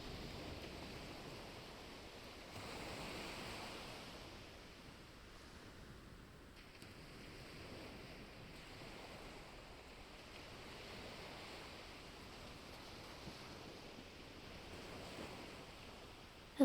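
Ocean waves wash gently onto a sheltered cove beach, a steady soft broadband surf with faint rhythmic swells rising and falling, heard alone without talk.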